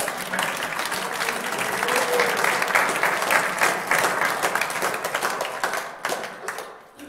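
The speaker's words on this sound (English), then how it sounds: "deserves a huge round of applause for waiting till the very end of the night" An audience at a brass band club concert gives a soloist a big round of applause, a full close wash of clapping that swells, holds, then thins out toward the end.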